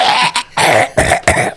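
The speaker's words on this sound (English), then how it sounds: "He coughs up a fish head" During a Blades in the Dark tabletop role-playing session, a person gives four short, harsh coughs in quick succession, close and loud, with no other sound.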